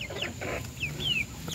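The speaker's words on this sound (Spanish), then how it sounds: "ahí están mis gallinas comiendo los desperdicios de la verdura" Backyard hens feeding on vegetable scraps give soft, close clucks and a few thin, rising chirps, quiet and scattered over a low background.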